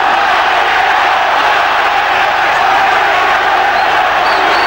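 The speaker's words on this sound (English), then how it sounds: "Just listen to the crowd." A boxing arena crowd at a Barrera versus Morales fight roars continuously as a dense, loud wash of cheering and shouting, with a commentator talking over it.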